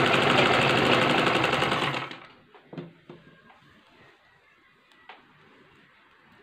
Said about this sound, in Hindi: यहाँ तक ये सिलाई मैं अपनी लगा लूँगी।